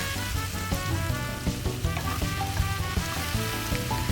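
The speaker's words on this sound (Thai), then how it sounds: "ผัดให้กระเทียมและพริกหอมดีนะคะ" Chopped garlic and red chili stir-fry in hot vegetable oil in a pan, a close, steady sizzle broken by irregular scraping and clinking from stirring.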